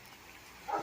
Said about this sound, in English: The neighbor dog barking.